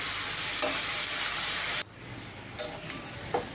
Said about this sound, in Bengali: এই তো নেড়ে চেড়ে ভাজিটা আমি করে নিচ্ছি।